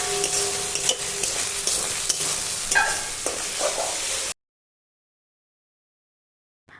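Masala with salt and turmeric being stirred and fried in a pan, with scraping strokes over a continuous sizzle for about four seconds before the sound cuts off to near silence.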